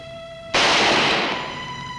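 A single sharp gunshot from a period Western TV drama set in California bursts in loudly at once, then decays into a long ringing tail over a faint steady tone.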